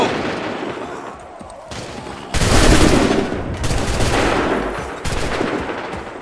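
Soldiers in Assassin's Creed III fire ragged musket volleys in several loud bursts. Each sharp crack swells into rolling, sustained gunfire, with quieter gaps between the volleys.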